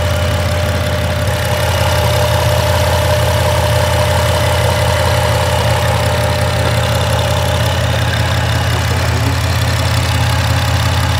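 A 3.8 liter V6 in a 2009 Dodge Grand Caravan fitted with a cold air intake idles steadily, a loud close continuous low hum with a faint ticking mechanical texture and no voices.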